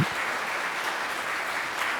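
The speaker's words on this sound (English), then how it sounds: "Let's get a round of applause for the kids." A brief, sustained burst of audience applause for kids at a comedy show, a dense, even roar of clapping hands that holds steady from start to finish.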